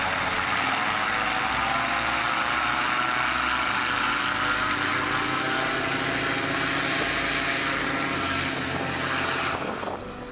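A Philippine-made airboat's EFI electronic fuel-injected gasoline engine runs with its propeller, a loud, steady droning roar with a constant buzzing tone that holds throughout and eases off slightly near the end.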